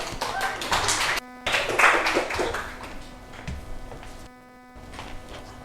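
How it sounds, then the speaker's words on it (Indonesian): A group of people clap for Mas Eko after a correct answer in an Islamic religious education class, a close, dense burst of hand claps with a brief pause, then more clapping over a faint steady hum. "Tepuk tangan untuk Mas Eko sudah menjawab dengan benar."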